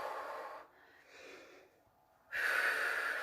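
Breaths during a Pilates exercise: a strong, close exhale, a quieter airy breath in, a pause, then another forceful breath out, with no talking.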